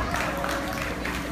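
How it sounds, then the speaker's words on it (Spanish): A wedding crowd at a ranch venue applauds the bride's father, a brief burst of clapping mixed with voices and background sound. "vamos a pedir un fuerte aplauso para el papá de la novia"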